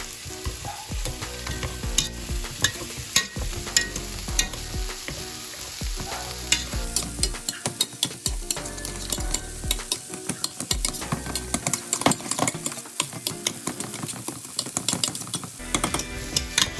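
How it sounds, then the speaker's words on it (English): Boiled potatoes mashed with heavy cream in a pot give dense, wet squelching and repeated clanking strokes of a masher, a busy, close, continuous rhythm with no talk. "And then we mash this up."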